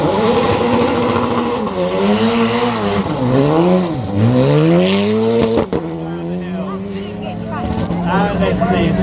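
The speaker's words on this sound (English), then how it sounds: "425 brake horsepower here in the SRT10. This is just an incredible track car." A Dodge Viper SRT10 track car with 425 brake horsepower accelerates up a hill climb. It is a loud, close engine roar that climbs through the gears, and spectators talk over it.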